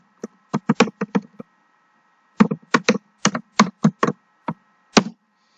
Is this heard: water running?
no